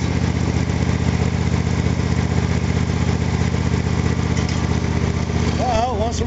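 A motor engine idles steadily and loudly throughout after being restarted, with a low rumbling drone and faint voices or whistling near the end.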